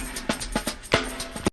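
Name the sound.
Drum break sample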